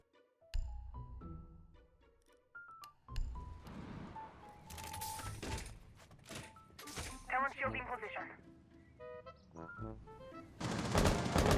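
Gunfire in the video game Rainbow Six Siege, sharp shots and short automatic bursts mixed with clicks and game beeps, close and loud, with a voice speaking over parts.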